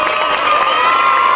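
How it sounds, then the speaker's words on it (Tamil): Dense crowd cheering and shouting at a Tamil pattimandram debate stage event in Katpadi, loud and continuous, with high-pitched voices and children shouting mixed into the roar. "விஜய ரசிகர்கள் இருந்தா கைத்தட்டு கொடுங்க பாக்கலாம்"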